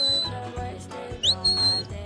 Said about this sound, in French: je lui dis ou gauche ou droite, mais c'est des sons de sifflet